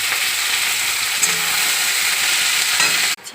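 Red amaranth greens hit a hot pan with poppy seeds and nuts, giving a loud, steady close sizzle and frying hiss that cuts off abruptly near the end.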